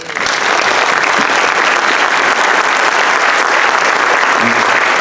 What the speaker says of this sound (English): we owe them a round of applause for the effort they put in tonight